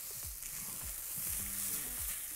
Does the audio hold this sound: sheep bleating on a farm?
no